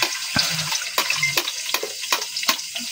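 Garlic dropped into a little hot oil for a sinagol fish dish gives soft intermittent sizzles and crackles, with scattered clinks and stirring scrapes close by, fairly quiet and with no talking.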